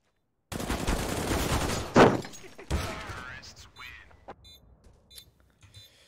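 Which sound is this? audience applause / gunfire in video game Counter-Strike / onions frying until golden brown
gunfire in video game Counter-Strike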